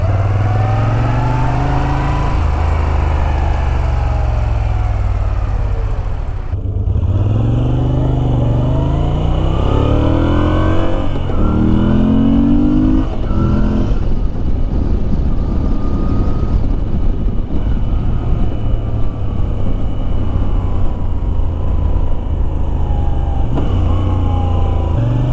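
A Moto Guzzi V7 Racer motorcycle engine drones loudly and continuously while riding, with rising and falling revs through gear changes and steady wind rush over the whole stretch.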